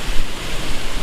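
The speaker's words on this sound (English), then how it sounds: "It's so windy out here." Strong storm wind roars and buffets a microphone outdoors in North Carolina, loud, rumbling gusts surging unevenly for about a second.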